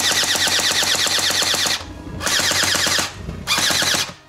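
A G306 water gel ball blaster fires on full auto in loud, rapid buzzing bursts: a long stream of shots, a short pause, then two more bursts with a brief gap between them.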